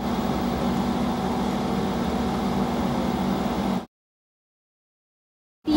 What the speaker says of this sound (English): If you hear some loud like noise in the background, it's the AC that I'm right next to